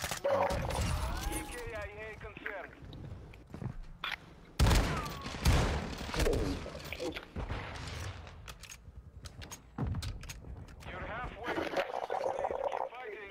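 Shotgun blasts in a multiplayer first-person shooter, several sharp booming shots scattered between bursts of other gunfire, with players talking over the action.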